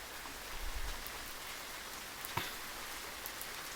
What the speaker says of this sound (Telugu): ఇలా పడుతుంది వర్షం.